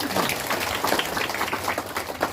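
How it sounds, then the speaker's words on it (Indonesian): An audience claps together during a Catholic thanksgiving Mass celebrating newly inducted Brimob police officers, with a continuous wash of hand claps at moderate volume and no clear speech. "Mari kita tepuk tangan dulu."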